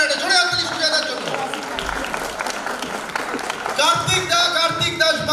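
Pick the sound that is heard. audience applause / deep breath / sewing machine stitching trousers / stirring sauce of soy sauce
audience applause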